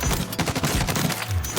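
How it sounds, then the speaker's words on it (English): A no-recoil rifle in the Warzone video game fires a rapid, unbroken automatic burst into a wall, each shot crackling loudly and close. "I'm going to shoot it into the wall and show you the pattern"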